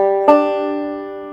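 Bluegrass banjo plays a picked roll without any slide, struck in a single bright attack whose ringing notes sustain and slowly fade, played alone and close.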